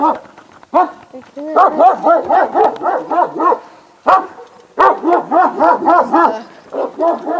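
A Pekingese dog barks in rapid, loud yapping runs close by, pausing briefly between bursts during an outdoor ride.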